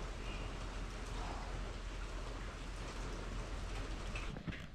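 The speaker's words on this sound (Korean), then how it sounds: "보슬비가 내리고 있는데" Steady light drizzle falls over a hillside village in Jiufen, Taiwan, a soft, continuous hiss of fine raindrops pattering on surfaces, even and unbroken throughout with no voices.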